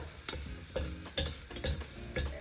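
Garlic and ginger fry in a pan while a wooden spatula stirs them, giving repeated scraping strokes about every half second over a continuous soft sizzle, close and clear.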